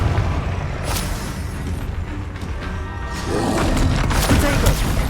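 Booming blasts and crashing impacts from a Confringo fire spell in the Hogwarts Legacy video game, loud and dense, with a heavier swell near the end and game voices mixed in.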